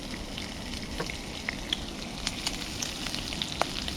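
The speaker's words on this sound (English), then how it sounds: "Oh, look how well that bacon's cooked now" Bacon frying in a pan on a countryside camp stove, a continuous crackling sizzle with small pops scattered throughout, close and fairly quiet with no voices.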